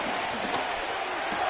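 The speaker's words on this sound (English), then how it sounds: "This crowd into it now as we get to 3rd down." A football stadium crowd builds noise heading into a third down, a broad, distant roar of cheering and shouting with a few louder swells.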